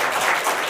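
Brief burst of warm applause from a church congregation for the choir after a Sunday worship service, a short, steady patter of many hands.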